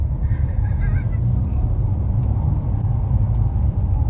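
A 2018 Nissan Maxima's engine drones low and steady from inside the car while traction control cuts in, a continuous rumble with faint road noise and no talking.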